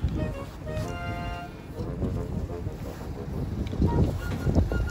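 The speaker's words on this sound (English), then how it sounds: "Today is very windy, it's snowy and slippery." Strong winter wind in Edmonton, Canada, roars and buffets continuously against the microphone, a loud steady rush with gusty swells and no voices.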